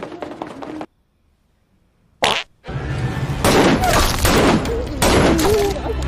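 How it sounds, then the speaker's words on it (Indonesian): Gunfire erupts in a dramatized ghost-story scene: after a brief lull, one sharp close blast rings out, then a loud, dense volley of rapid shots and crackling bursts carries on to the end. "roh Samsul spontan melepaskan tembakan"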